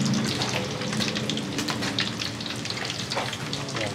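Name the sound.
fish frying in a pan with oil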